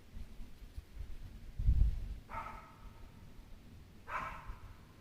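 A dog barks twice at moderate distance, two short separated barks about two seconds apart, after a dull thump, in a quiet setting.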